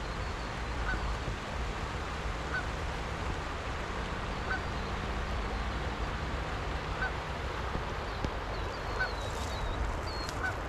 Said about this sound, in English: There's some geese flying in the distance.